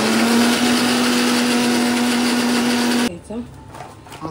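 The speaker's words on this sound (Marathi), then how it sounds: "2-3 वेळा मिक्सरला वाटून घ्यायचं." Kitchen mixer grinder grinding paste for a crab curry: a loud, steady motor whine runs for about three seconds, then cuts off abruptly, leaving quieter kitchen sounds.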